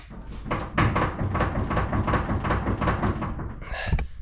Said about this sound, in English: There's some sort of knock on the front end, so whether that's a track rod arm in or out a ball joint